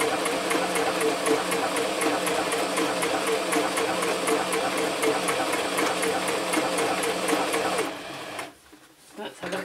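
A Toyota Oekaki sewing machine runs a triple straight stitch in a steady, fast mechanical whir with rapid needle ticking. It stops near the end, and a voice talks over it.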